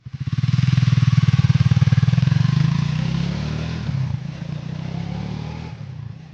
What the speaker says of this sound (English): real sound from the bike during the video